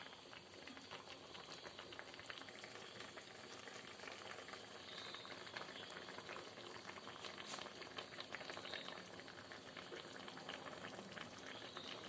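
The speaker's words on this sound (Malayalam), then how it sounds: "വെള്ളം നന്നായിട്ട് തിളച്ച് വരുന്നുണ്ട് കറി വെന്ത് വരുന്നുണ്ട്" An anchovy fish curry boils in a pot, a steady, close bubbling and fine sizzling patter that continues evenly without pause.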